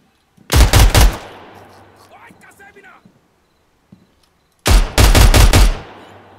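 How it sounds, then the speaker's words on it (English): Two loud bursts of rapid gunfire in the video game Zero Hour, close and sharp, separated by a few seconds of quieter shuffling and movement. "Oh, I shot a hostage."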